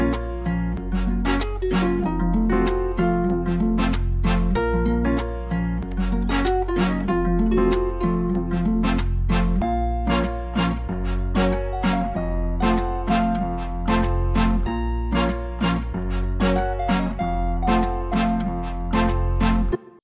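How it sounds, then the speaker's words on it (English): A Latin trap beat plays guitars, piano, trumpets and a deep sub bass together, steady, full and loud throughout with a repeating rhythmic pattern and no voices. "Altogether, the guitars, the piano, the trumpets, and the sub bass sound like this."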